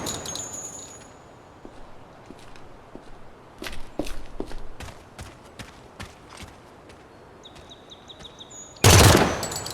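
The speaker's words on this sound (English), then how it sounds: "I think I'm gonna like the burst fire variant." Burst-fire rifle in Project Silverfish: a run of crisp, evenly spaced shots and clicks at moderate volume, ending in a sudden loud, close blast.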